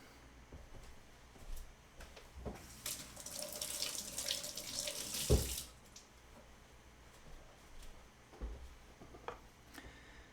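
Running kitchen tap water splashes over a shredder as it is rinsed, a steady gush swelling for about three seconds amid quieter drips and handling clatter before and after.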